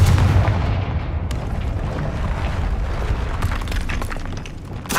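A Confringo blasting spell explodes in Hogwarts Legacy, a heavy, booming blast with deep rumble that decays into crackling debris and scattered smaller impacts, loud and close throughout.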